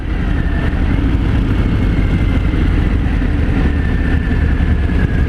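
A 2018 Harley-Davidson Fat Bob 114 motorcycle runs on the road, its engine a steady loud low rumble mixed with wind noise, with no talk.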